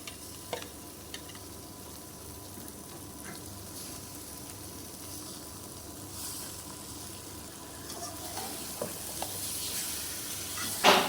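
Marinated chicken pieces sizzle in a pan at close range, with intermittent scraping and stirring, and the frying grows a little louder and busier toward the end.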